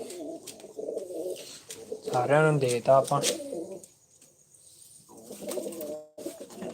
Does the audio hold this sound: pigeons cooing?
yes